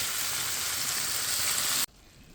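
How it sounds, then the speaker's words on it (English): Ackee is folded gently in a hot pan, making a loud, steady sizzle and frying crackle close up that cuts off abruptly near the end, leaving only faint background hiss. "You just fold it in, right? So you don't break up the ackee too much"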